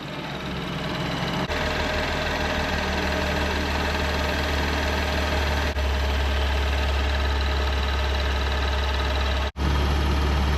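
BMW M235i with the N55 engine idling while the A/C runs cold and the fans blow on full, a steady, loud, close hum and whoosh, with a brief dropout near the end.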